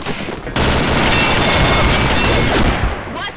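Dense, loud automatic gunfire in the Combat Arms shooter during a clan war match, an unbroken burst of overlapping shots running nearly the whole time after a short quieter lead-in.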